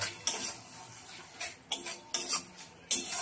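Spice paste for a raw banana kofta curry is stirred in a pan over a low flame. A spatula scrapes and clinks in a few sharp strokes over a faint, steady background.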